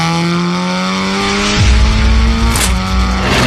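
A current world-champion TCR touring race car from a Chinese brand accelerates hard down a track straight. Its engine note climbs steadily, drops sharply at an upshift, then climbs again, loud and close.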